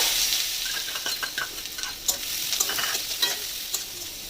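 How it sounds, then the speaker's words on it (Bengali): Onions sizzling in hot mustard oil, a continuous bright frying hiss broken by light taps and scrapes of a spatula against the pan, close by. "তো তেল গরম হয়ে গেছে, এবার আমি পেঁয়াজ দিয়ে দেবো।"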